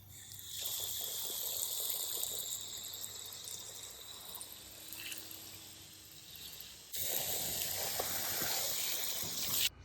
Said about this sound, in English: we're gonna take it outside, rinse it off, and see what we got